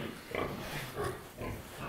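Pigs on a farm being treated for mange, grunting and oinking in repeated bursts close by, steady snorting over a continuous livestock din, with a person's voice faintly in the background.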